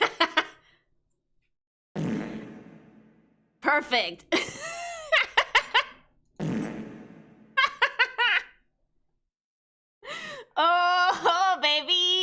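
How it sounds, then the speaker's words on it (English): Reverberant fart sound effect, played several times in short bursts amid excited chatter and laughter, with long echoing tails and a closing tonal flourish. "Fart with reverb."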